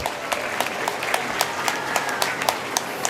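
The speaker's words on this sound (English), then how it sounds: "they also deserve a big round of applause." An audience at a college inauguration ceremony gives school teachers a round of applause, a dense, even wash of many hands clapping with sharper individual claps standing out, steady and fairly loud throughout.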